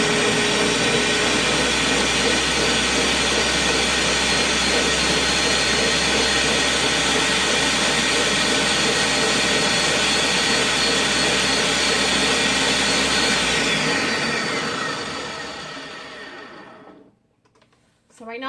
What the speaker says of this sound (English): So just blend those.